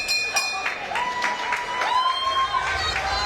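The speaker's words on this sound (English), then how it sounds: "So thunderous applause." A boxing crowd applauds in an arena during a Jack Hughes vs Josue Morales fight, a broad wash of clapping and cheering under sharp whistles and scattered shouts.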